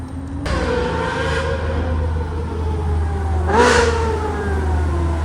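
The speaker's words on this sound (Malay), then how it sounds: "breakfast dengan bunyi exhaust" Supercar exhaust revving at a morning gathering in Genting, including a Ferrari 458 and a BMW M4, with two loud rising revs followed by falling pitch, over a steady low rumble.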